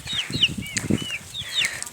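Turkeys and young chicks gathered at a feeder in a farm pen, with soft wing flaps, rustling and high chirping calls close by, fairly quiet and without talk.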